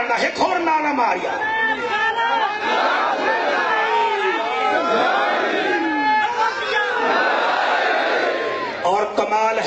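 A large crowd at a religious conference in Pindi Bawarey, Hafizabad raises a loud, sustained chant of a slogan, many voices overlapping in rhythmic shouted bursts for nearly ten seconds.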